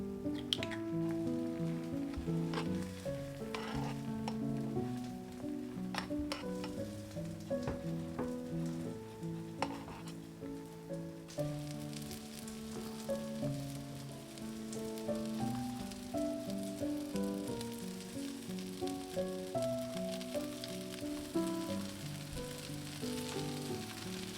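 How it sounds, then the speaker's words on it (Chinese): Four beaten eggs fry in a pan into a thin omelette, a steady soft sizzle running under continuous melodic music. "再打4个鸡蛋， 放入到锅中摊成鸡蛋饼。"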